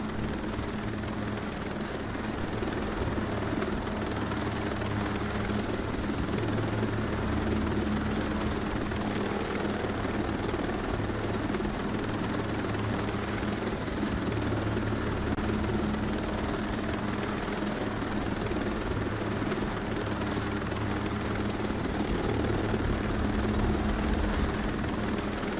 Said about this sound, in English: Better watch the damages on this copter by this point.